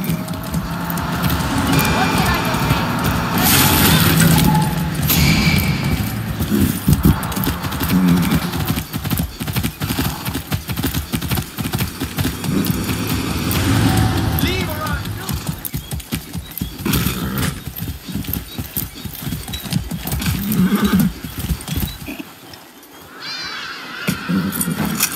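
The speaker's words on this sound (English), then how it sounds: "mount horse." Horse hooves clip-clop steadily in Far Cry 6 as a mount is ridden, with occasional neighs and whinnies over a busy game soundscape and some talk, ending with a brief quieter moment.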